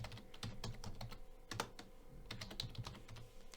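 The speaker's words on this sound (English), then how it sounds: "Let's type the commit message" Someone types a commit message on a computer keyboard, with quick, irregular key clicks close by and quiet, and no voices.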